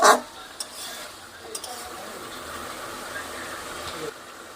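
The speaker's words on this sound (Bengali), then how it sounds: "এখনো তো জলই দিই নাই, এখন তো কষছি।" Chicken pieces being stirred and sautéed in a pan without any water yet, giving a faint steady sizzle after a sharp scrape at the start, with a few soft utensil knocks.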